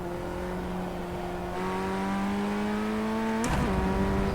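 A race car in the iRacing sim on practice laps to warm its tires, engine droning steadily with pitch slowly climbing, then a sharp gear-change blip near the end before the drone resumes; no talk.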